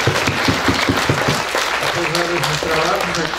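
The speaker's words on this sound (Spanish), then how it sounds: "Le ofrecemos nuestro aplauso al Padre." A congregation at a patronal festival in San Miguel Amatitlán applauds for a parish priest, a dense, steady patter of clapping that carries on under a speaker's voice on a public-address system.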